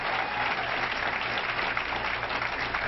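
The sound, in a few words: audience applause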